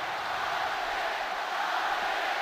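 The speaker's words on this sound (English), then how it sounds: "you can hear the stage behind them, the crowd roaring" Crowd at a League of Legends esports finals stage, Rift Rivals 2018 in Asia, a loud, continuous, diffuse roar of many voices heard from behind, steady and unbroken throughout.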